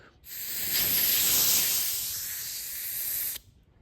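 Air blown through a carburetor to clear built-up fuel, a single steady breathy hiss lasting about three seconds, close and fairly loud, with no talking.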